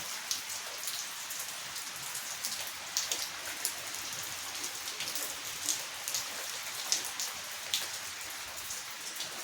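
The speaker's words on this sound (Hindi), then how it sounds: "और ये बारिश का मौसम ऐसे।" Steady monsoon-season rain falls outdoors near a home, a dense continuous patter of drops on surfaces with scattered sharper splashes, moderately soft and with no voices.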